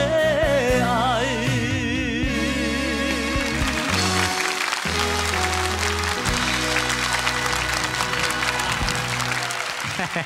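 A studio audience on a Taiwanese TV variety show applauds to welcome a singer. The steady, sustained clapping runs under loud music throughout.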